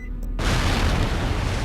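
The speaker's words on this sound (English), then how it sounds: "it just sets off the explosion the instant that we try to do that" A C4 explosion in the video game Cold Fear erupts suddenly after a brief quiet moment, then becomes a loud, sustained roaring blast that fills the whole clip.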